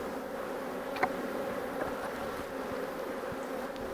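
Honey bees buzz steadily around an opened hive while it is being split, a dense continuous drone with a few louder passes of individual bees close by.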